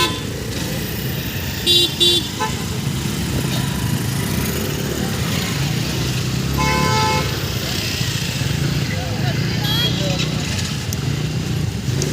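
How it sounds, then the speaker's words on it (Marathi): Engines of cars and motorcycles rumble past steadily on the Mumbai–Goa road in Konkan, with several short horn toots at intervals and people talking in the background. "फोर व्हीलर पण गाड्या आहेत"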